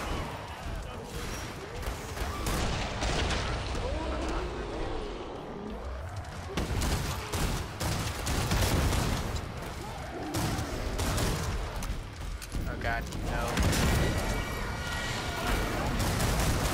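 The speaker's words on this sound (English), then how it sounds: "A bunch of explosions." Dense bursts of gunfire and explosions from the video game Killing Floor 2 pound continuously in loud, chaotic waves, with a player's voice talking over the battle at times.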